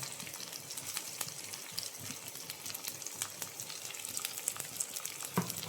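Chopped onion sautés in a pan, giving a steady, faint, crackling sizzle with scattered pops and an occasional stir throughout.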